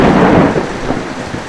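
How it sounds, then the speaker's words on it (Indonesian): Heavy rain pours down with a deep, loud rumble of thunder rolling underneath, close and dense throughout the short stretch, with no voices. "Hujan"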